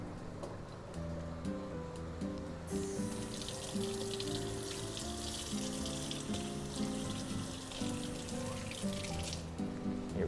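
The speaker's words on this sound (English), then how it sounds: "I'm gonna rinse my hands off real quick" Kitchen tap running into a sink while hands are rinsed, a steady close splashing rush that starts after a few seconds and continues under background music, stopping near the end.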